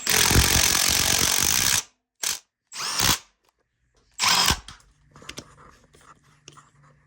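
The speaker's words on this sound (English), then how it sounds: "the holes are all gummed up, so tapping them out, gonna clean them out" A power tool runs in loud bursts while tapping out gummed-up radiator bolt holes on a YZ125 dirt bike, a long whirring run then short starts and stops, followed by faint clinks and handling noises.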